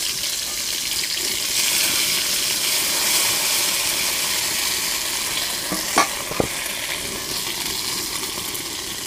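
Ground spice paste fries in a pan for a bottle gourd curry, a steady close hiss with scraping stirs throughout and two sharp clinks of utensil on metal partway through.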